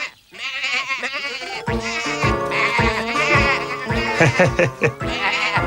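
Several sheep bleat loudly and close by on a farm in the early morning, overlapping wavering cries following one another almost continuously.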